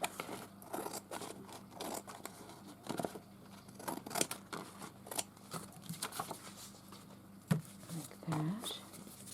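Scissors trim paper for a vintage-style floral journal, with a run of close, crisp snips and light paper rustling throughout.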